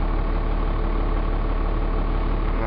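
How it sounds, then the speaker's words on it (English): A 12-valve Cummins diesel with a mechanical injection pump idles steadily up close, giving a continuous, even rumble with no pauses and no voices. "the gauge jumps every time the injection pump injects fuel into the engine"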